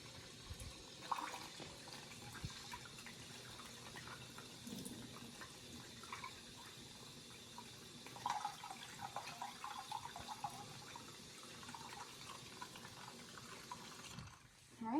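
Steady running water pours and splashes into an enema bag for the whole stretch, a continuous filling hiss with small gurgles and a brief clatter near the end.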